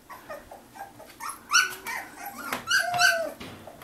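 A Sheepadoodle dog close by lets out a string of short yips, whimpers and barks at moderate volume, with high whiny cries mixed among sharper bursts over a quiet room.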